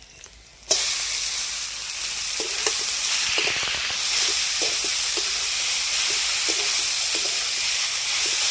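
Leafy greens dropped into a pan of hot oil with fried onion burst into a loud sizzle that keeps hissing steadily, with intermittent scraping and clinks of stirring, no talking.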